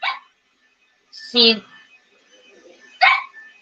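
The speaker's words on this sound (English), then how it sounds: "That's what she's barking at." Three sharp, nearby dog barks spaced apart, the middle one loudest, with brief quiet gaps and faint rustling between them.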